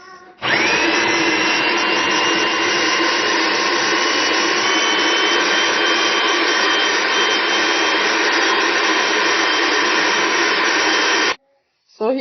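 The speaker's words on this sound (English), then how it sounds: "I've placed it in the food processor, and I'm gonna press puree mix." A food processor purees onion with a loud, steady whirring motor drone that runs nearly twelve seconds without a break, then cuts off sharply, with no voices over it.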